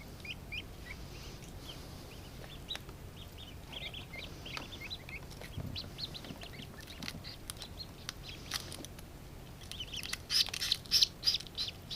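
Newly hatched ducklings peep in quick, high chirps from close by, steady at first and growing louder and busier near the end, with no one talking.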